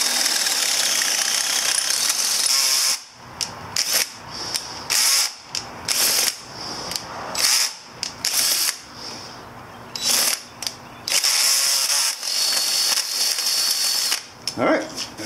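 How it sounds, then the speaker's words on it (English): A drill whines loudly through a metal handlebar on a Yamaha Virago XV250 motorcycle in repeated bursts, stopping and restarting with short gaps between runs, close by with a high grinding tone. "Now we drill our bigger hole."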